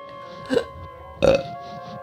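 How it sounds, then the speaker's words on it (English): Two loud, close burps, about three quarters of a second apart, each a short guttural belch standing alone over quiet background hum. "I ruined it by burping"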